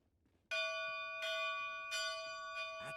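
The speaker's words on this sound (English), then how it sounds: "All that remains is to ring the bell." A bell rung in the fantasy video game Dogs and Dragons 2, three clear resonant chimes spaced under a second apart, each ringing on with a bright sustained tone over a quiet background.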